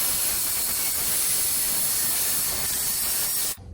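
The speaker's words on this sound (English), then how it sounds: "we're going to use the hairdryer to get that adhesive, that 3M automotive adhesive, kind of warm and soft" A hairdryer blows a steady, loud hiss of hot air over the 3M automotive adhesive holding a Tesla badge, running without a break and then cutting off abruptly near the end.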